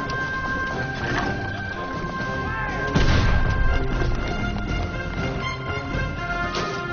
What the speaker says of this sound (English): an alarm cannon blasts a warning to the city, shattering the quiet of a Sunday afternoon